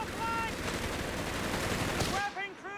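Rapid machine gun fire rattles loudly and continuously in a Company of Heroes 3 multiplayer battle, with other gunfire and combat noise, then breaks into shorter bursts near the end.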